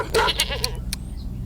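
Frightened goats let out a couple of sharp, wavering bleats close by, the cries quickly fading into a short quiet tail.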